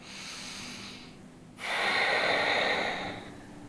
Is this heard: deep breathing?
yes